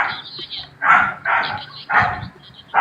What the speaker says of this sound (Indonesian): Suara guguknya siapa itu?